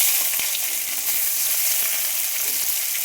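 Onions dropped into hot oil, giving a bright, even sizzle with faint crackles that stays steady and close for the whole stretch, with no voices.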